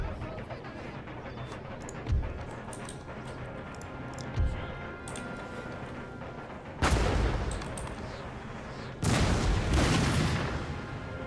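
Musket and artillery fire in Empire: Total War, fighting as France, with scattered distant shots and two heavy booms, then loud rolling volleys of musketry crashing in near the end.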